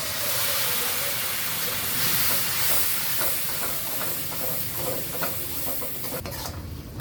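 Tamarind water hits hot oil with a loud, continuous hiss and sizzle that gradually settles, with a few faint scrapes near the end.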